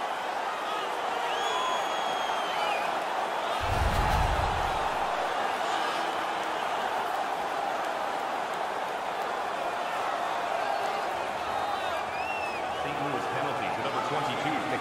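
A hockey video game arena crowd keeps up a steady roar with a brief surge of cheering, heard under continuous play-by-play commentary.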